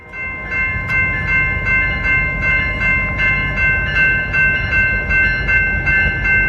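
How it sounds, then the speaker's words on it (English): A BNSF oil tank train rolls past on the Beardstown line, its loud steady rumble of wagons close by, with rhythmic wheel clicks and bright metallic squeal tones running continuously throughout. "The final train for the first Hidden Gem series is a BNSF oil tank train on the Beardstown."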